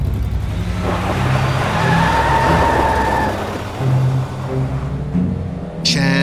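A car in the Zombie Attack game speeds off on a dark night, engine roaring and tires squealing under hard acceleration, loud and close, with a brief sharp burst near the end.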